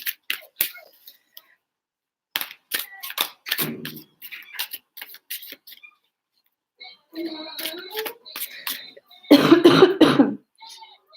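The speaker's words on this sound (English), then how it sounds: "My cough is coming back." Several sharp coughs and throat clearings break up the silence, some in quick clusters, with a louder, rougher burst near the end, close and dry, from a person during a live tarot reading.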